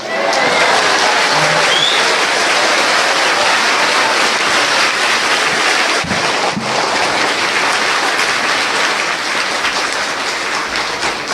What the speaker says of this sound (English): you clap like first time